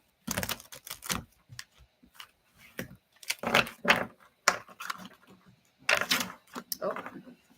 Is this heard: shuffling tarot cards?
yes